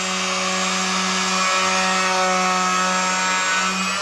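Steady, continuous whine of a power sander running against cork railroad roadbed, loud and close, with no pauses.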